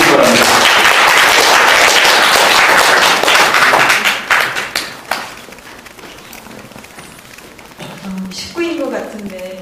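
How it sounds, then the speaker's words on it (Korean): Applause from the audience at a Korean civic group's annual general meeting greets an invited secretary-general, loud and dense at first, then thinning into scattered claps and voices. "박수로 맞이해 주시기 바랍니다."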